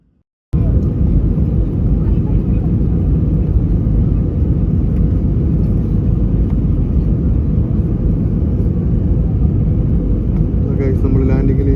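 An airplane landing at Trivandrum Airport fills the space with a loud, steady, close roar that barely changes from start to finish, with a brief faint voice near the end.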